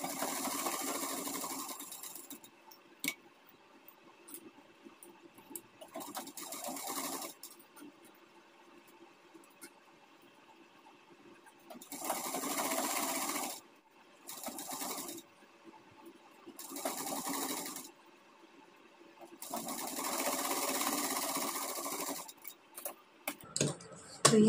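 Sewing machine stitching piping around a blouse neckline, running in repeated bursts of steady mechanical whirring separated by brief pauses, close and fairly loud.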